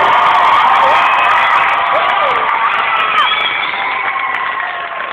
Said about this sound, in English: If you can give Kevin and Ethan a round of applause for working so hard tonight